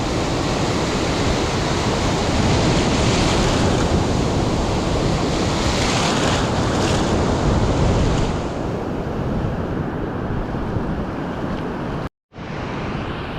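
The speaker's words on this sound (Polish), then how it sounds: "fale jeszcze." Steady roar of Baltic Sea surf at Chałupy beach washing in continuously, broad and noisy like wind-blown waves close by, with a brief dropout near the end.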